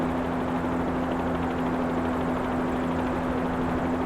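Payware helicopter in a flight simulator game gives a steady, loud, droning rotor and engine whine with a constant hum and rapid blade chop, unchanging throughout and without talk.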